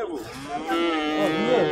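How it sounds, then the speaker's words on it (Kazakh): Female calf mooing at the Talas livestock market in Kara-Buura, one drawn-out, rising and falling bellow heard close and loud. "Ұрғачы торпақ екен."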